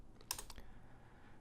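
A few quick keystrokes on a computer keyboard as a command is entered, a short cluster of clicks near the start and then quiet room tone.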